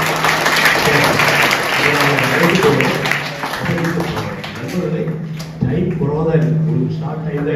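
An audience at an anti-drug awareness seminar in a school applauds in a loud, sustained round of clapping that softens and swells again, with a voice speaking over it.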